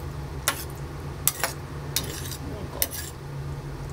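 Mapo tofu stir-fried in a pan: a spatula clacks against the pan in several sharp knocks over a low background sizzle, with a brief spoken word.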